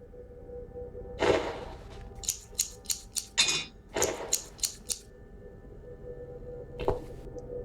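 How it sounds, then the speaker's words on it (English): Scissors cutting through a dress in The Cat Lady video game: a burst of sharp, crisp snips, several in quick succession mid-clip, then a lone final snip after a pause, with no talking. "now we'll use the scissors"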